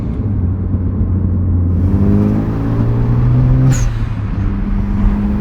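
A 10th-gen Honda Civic with an HKS blow-off valve revs and lets off nearby. The engine drone falls, then the valve vents in a sharp, brief hissing whoosh over the idling rumble.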